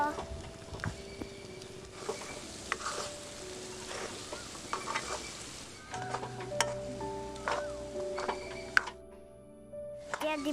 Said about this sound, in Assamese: এতিয়া দিম জলকীয়া গুড়ি তাৰপিছত ধুনীয়াকৈ লৰাই থাকিব